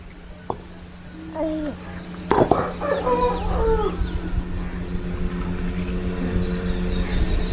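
Chicken clucking, with several short rising clucks and calls at close range after a sharp knock, over a low steady hum and background rumble.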